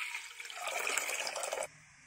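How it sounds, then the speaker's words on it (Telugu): Water pours into a pressure cooker in a kitchen while mixed vegetable sambar is being made, a steady splashing stream for about a second and a half that stops abruptly. "ఫస్ట్ కుక్కర్ తీసుకుని కొద్దిగా వాటర్ వేసుకుందాం."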